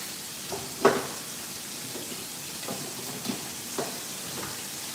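Pork chops frying in a pan give a soft, steady sizzle close by, with a few brief pops and clicks scattered through it and no voices.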